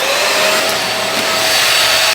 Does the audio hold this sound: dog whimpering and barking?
no